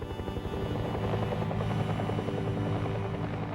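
A Bell UH-1 Huey helicopter flies past with a steady, dense rotor thump and a heavy engine drone, continuous and moderately loud, with no voices.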